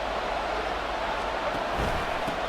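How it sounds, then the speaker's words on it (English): Stadium crowd roaring in Madden NFL 24 during a Seahawks at Bills game, a dense, steady wash of cheering noise filling the whole moment without breaks. "This crowd doing all they can."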